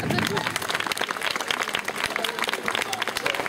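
An audience applauds knight Arnaud at a medieval festival in Condé-sur-l'Escaut after he wins a bout; dense, steady clapping fills the whole stretch close by, with voices mixed in.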